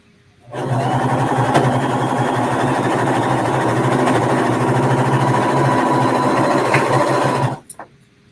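Pfaff serger running continuously for about seven seconds as it sews and trims fabric, a loud, steady, close mechanical whir with a low hum, stopping abruptly with a few small clicks.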